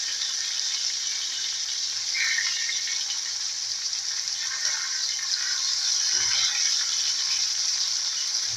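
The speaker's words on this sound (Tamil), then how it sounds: "இது மாதிரி எல்லா பக்கமும் நல்லா வேகும்படி அதை திருப்பி திருப்பி விட்டு நம்ம ஃப்ரை பண்ணிக்கலாம்." Fish frying in a pan Tuticorin-style, a steady, close, bright sizzle that hisses on without pause, swelling slightly as the pieces are turned.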